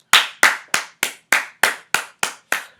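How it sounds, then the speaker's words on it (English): A single pair of hands claps nine times in a steady, even rhythm: sharp, close and loud, with brief silence between each clap and no voices. "Round of applause."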